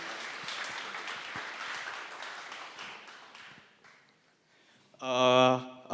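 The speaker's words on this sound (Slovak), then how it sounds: "tak dáme si potlesk pre publikum" A hackathon finale audience claps in a dense burst that gradually thins and fades out, followed by a brief loud tonal sound at the end.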